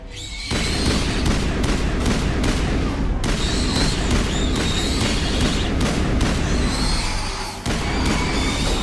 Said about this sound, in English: More grenades! I'm out of grenades.